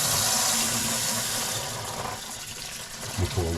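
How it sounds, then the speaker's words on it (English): Tap water runs steadily over a raw corned beef brisket as it is rinsed in a kitchen sink, a close, loud, continuous hiss and splash that eases slightly toward the end. "But I'll rinse this off a little"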